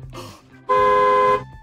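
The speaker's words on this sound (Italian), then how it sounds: "Questo è il clacson dell'autobus!" A single loud bus horn blast of about two-thirds of a second, close by, comes after a brief quieter sound.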